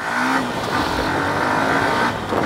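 A Bajaj Pulsar NS125 or Hero Xtreme 125R motorcycle accelerates through its gears on a ride, the 125cc engine revving up steadily with short pitch drops at shifts, close and moderately loud with no talk.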